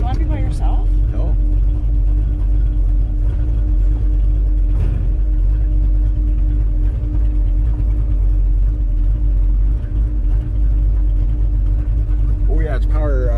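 1965 Ford Falcon with a cammed engine, driving on gravel: a loud, steady low engine rumble throughout, heard from inside the car, with people talking over it.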